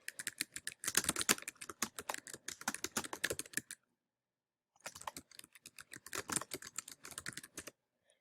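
Someone types on a computer keyboard, producing rapid close clicking keystrokes in two bursts separated by a short pause; quiet and free of talk.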